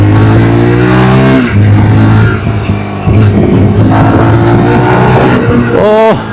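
A 2026 Yezdi Scrambler motorcycle with a 334cc engine idles loudly close by, then revs up and down several times in a steady throbbing roar, rising sharply at the end.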